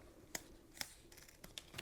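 Scissors snip through the end of a coil zipper while sewing a curved zipper, giving five quiet, sharp clicks spaced unevenly across a near-silent background.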